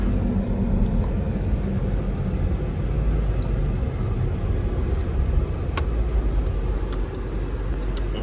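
A Porsche Panamera passes on Post Avenue as a steady, loud low engine and road rumble fills the whole stretch with no talking.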